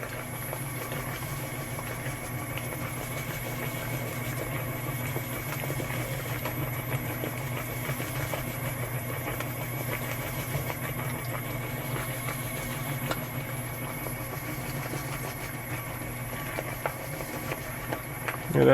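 A KYS Pro Baker 7+ spiral mixer runs at its full 450 RPM with a full batch of dough, giving a steady, continuous motor hum and mechanical drone at even loudness throughout.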